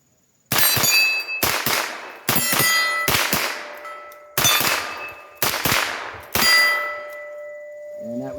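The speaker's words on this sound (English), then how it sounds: "we'll do some rapid fire back and forth just to show you how easy this is to shoot quickly and rapidly" Rapid pistol shots ring out in quick bursts, each followed by a sharp metallic clang and lingering ring from steel targets, including an 8-inch clanger, loud and close with short pauses between volleys.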